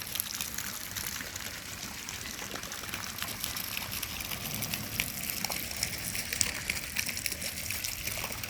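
Water trickles and splashes faintly in an old, neglected garden fountain, a steady soft wash of flowing water with no voices.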